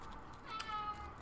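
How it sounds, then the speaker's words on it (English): A house cat gives one short, faint meow in the background of a quiet room, with no voices. "oh, there's my cat."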